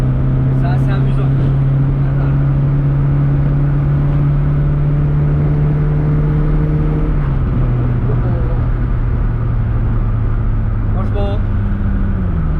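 Steady engine drone of a car cruising at about 80 km/h, with a strong low hum that dips slightly partway through, continuous and close throughout with no talking.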